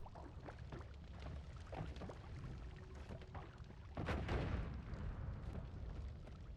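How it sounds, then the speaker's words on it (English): Bombs fall and explode in the pixel-physics game Noita, with a string of soft, muffled blasts and crackling debris, the largest burst arriving near the end, all fairly faint. "Who the heck is dropping bombs up here?"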